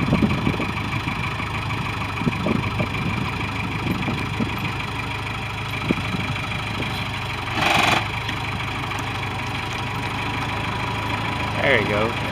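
A 1996 Sky Trak 5028 telehandler engine runs at a steady idle throughout, with a continuous low rumble and a brief louder burst near the middle and again at the end, with no speech.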